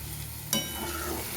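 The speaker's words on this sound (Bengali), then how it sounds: "এখন আমি কিছুক্ষণ আরও নেড়ে চেড়ে নেব, যত কষাবে তত টেস্ট হবে খেতে" Banana stem curry frying in a pan as it is stirred, a scrape of the spoon over a constant sizzle, brief and close.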